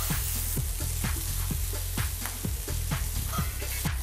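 Burgers frying on a hot surface give off a loud, steady sizzle and crackle, with a soft scrape or tap roughly every half second throughout.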